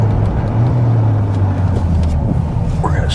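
A Corvette rumbles at low speed as it pulls over, a close, steady low engine drone with faint road noise, and a voice is heard briefly near the end.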